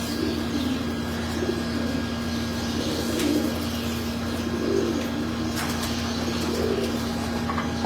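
Pigeons cooing softly in a loft of breeder birds, low repeated rounded coos at a fairly even rhythm over a constant background hum, with faint chirps and occasional clicks.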